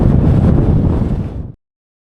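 Strong wind buffets the microphone on an open Lake District fell, a loud, rough roar that cuts off abruptly after about a second and a half, followed by silence.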